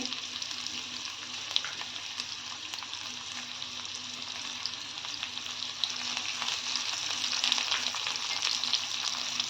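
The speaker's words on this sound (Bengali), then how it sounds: "তারপরে দিয়ে দিচ্ছি পেঁয়াজ।" Sliced onion goes into a pan of frying okra with curry leaves, setting off a steady loud sizzle of hot oil that carries on evenly without speech.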